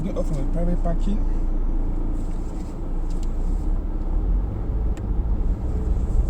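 A car moves off from a private parking lot, its low engine rumble steady and close throughout, with a voice speaking over it.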